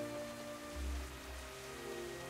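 Steady rain in the game Gothic 3, a soft, even hiss of drops falling on surfaces, with a faint low rumble swelling briefly midway; no voices.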